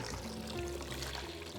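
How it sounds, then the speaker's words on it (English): Room temperature water pours steadily into a Tupperware container filled for soaking yarn, a continuous close splashing fill with a rising tone as the container fills. "I like to use this Tupperware container, and fill it up with some room temperature water."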